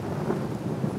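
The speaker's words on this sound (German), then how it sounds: "Schon wenig später ist's vorbei mit dem Regen." Steady rain shower in a forest, with a low rumble of thunder rolling through the dense, continuous patter; no voices.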